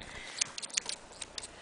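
Thinning shears snip near a dog's eyes during grooming, giving a few short, crisp metallic clicks spaced irregularly, faint and close against a quiet room.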